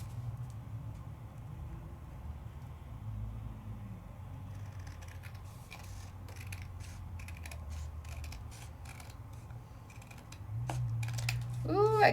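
Scissors snip out a die-cut paper shape with a run of crisp, quick cuts close by that grow busier over the second half, alongside low background murmur.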